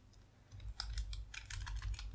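Fast typing on a computer keyboard during a Nim programming tutorial, a close, quiet burst of clicking keys over a low hum, with no voices.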